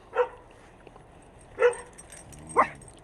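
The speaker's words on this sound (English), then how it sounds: "Sorry, my dogs are yakking." Several dogs bark in three short, separate bursts, spaced about a second apart and fairly close, with a quiet stretch between each yap.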